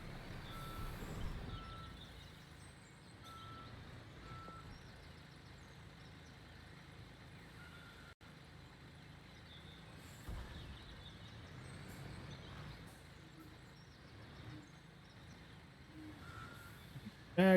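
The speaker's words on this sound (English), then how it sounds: "We're gonna back this truck all the way in there." A truck in Construction Simulator backs up with faint, evenly spaced reversing beeps over a low engine drone, quiet and steady throughout with a louder knock near the end.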